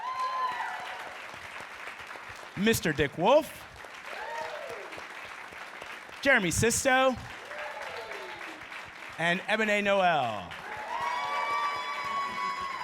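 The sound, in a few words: audience applause welcoming FBI cast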